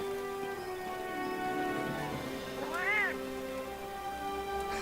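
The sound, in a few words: cat meowing in the video game Monster Hunter World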